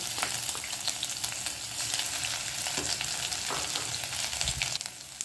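Crushed ginger and garlic sizzle in hot oil in a pan for a spicy mixed dal, a dense, steady crackle with soft stirring scrapes throughout and no talking.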